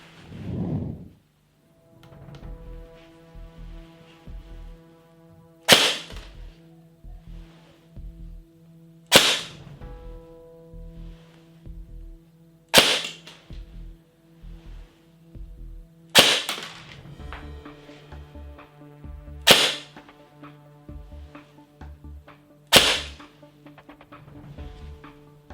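A Krytac Kriss Vector airsoft AEG fires single shots through a chronograph: about seven sharp, loud cracks spaced a few seconds apart, each with a short gearbox whir, over a steady low electrical hum, with no voices.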